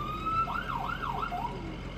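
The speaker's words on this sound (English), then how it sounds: "we also have to check the sirens" An ambulance siren under test during a routine vehicle check, a clear wailing tone sweeping up and down in repeated cycles, steady and fairly close with light background noise.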